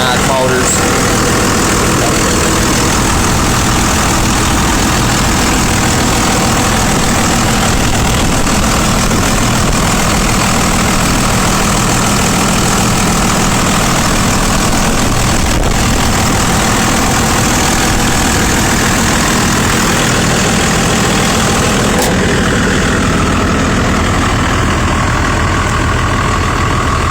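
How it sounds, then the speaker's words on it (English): An older Cummins diesel engine idles loudly and up close with a dense, steady, rough rumble that holds unbroken for nearly half a minute. "I like these years of Cummins. They're pretty loud, just idling."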